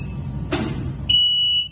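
A sharp click, then a Kowey industrial robot's Y-axis servo alarm emits a steady high-pitched electronic tone for about half a second before cutting off, over low machine hum.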